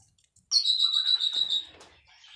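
Small lovebirds kept in a breeding aviary give a single sustained bright chirping call, close and clear, followed by a fainter trailing twitter.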